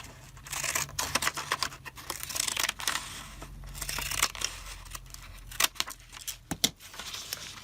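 Paper cut with scissors during a journal page set-up for a file folder flippy, with a run of close, crisp snips and rustling, crinkling paper handling and no talk.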